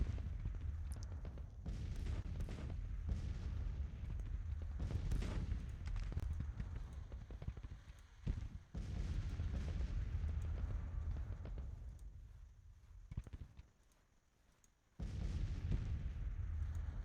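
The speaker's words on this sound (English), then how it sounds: "Looks like some of this artillery is starting to get here." Heavy artillery booms and rolling cannon fire in a Civil War battle video game, dense and continuous with a brief lull near the end before firing resumes.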